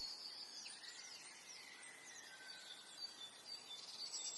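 Cricket chirping at night in a forest, a faint steady high trill running continuously with soft bird-like calls layered over it in a quiet setting.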